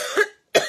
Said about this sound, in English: I'm probably going to cough through this whole thing.